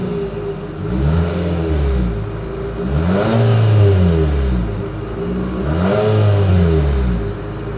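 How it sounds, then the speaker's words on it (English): A 2022 Infiniti QX55 exhaust revs three times in close succession, each rev a rising then falling engine roar with a sharp blip, heard up close with no talk. "As always, here is that exhaust clip."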